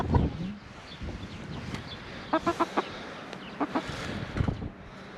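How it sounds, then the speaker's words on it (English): Buff Orpington and Barred Rock hens clucking in a backyard flock, short rhythmic bursts of clucks and a few sharper calls, close by, with wind and outdoor ambience between them. "Hard Rock is one of our larger Barred Rocks"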